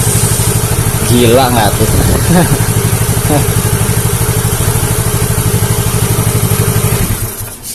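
Yamaha Mio J scooter engine, faulty and sputtering, idling with a fast steady putter and then revved close up before dropping off at the end; someone speaks briefly over it.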